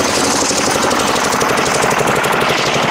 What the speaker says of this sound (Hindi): ये इंजन पे चलने वाली मशीन है